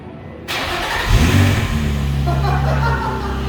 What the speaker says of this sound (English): So it's gonna sound probably fairly OEM, maybe slightly louder with that muffler.